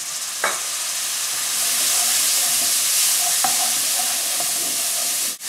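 Mashed ginger and garlic stirred into onions frying in a pan for chicken curry, a steady loud sizzle with a few soft scraping strokes, close and continuous with no talk.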